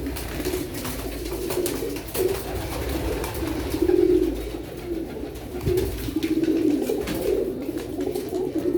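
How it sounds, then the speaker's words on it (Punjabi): Teddy pigeons cooing in a loft, with soft repeated low coos that rise and fall over a steady background hum. "ਆਹ ਕਬੂਤਰ ਟੈਡੀ ਦੇਖੋ ਮਾਸ਼ਾਅੱਲਾ।"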